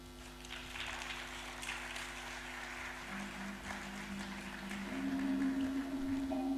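Audience applause at an African Union health assembly after a closing speech, a soft, steady patter of many hands, fairly distant and even, swelling slightly toward the end.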